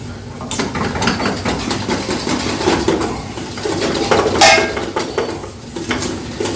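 A spoon stirs seasoning through a cooking pot, scraping and clinking against the metal in uneven strokes, close and fairly loud, with no talk over it.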